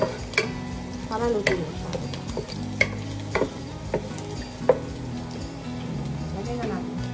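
Chicken for adobo sizzles and fries in a pan while being stirred, a steady close sizzle with scraping stir strokes as a person talks over it.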